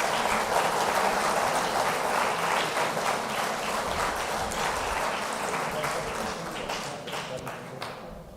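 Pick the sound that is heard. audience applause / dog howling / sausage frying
audience applause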